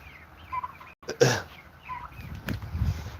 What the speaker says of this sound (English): So those are my turkeys.